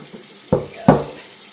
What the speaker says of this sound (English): I want to water it with the special watering stuff that I have.